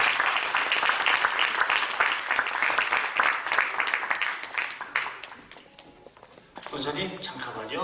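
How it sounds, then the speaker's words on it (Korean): Loud audience applause fills a church general assembly hall after a plaque presentation, steady dense clapping that thins and fades after several seconds before voices and a fresh burst of noise return. "크게 박수 주시기"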